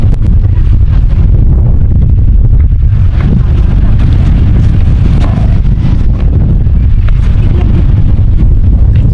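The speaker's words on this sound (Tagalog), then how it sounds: "Ang lakas po ng hangin ngayon and may konting ambon." Strong wind by the river in Aparri, Cagayan, with light drizzle, buffets the microphone with a loud, continuous low rumble and roar that never lets up.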